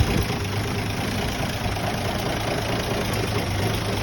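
A 1974 Toyota FJ40 engine idles steadily just after a cold start, a loud, close, continuous low rumble with an even mechanical chug that holds unchanged throughout.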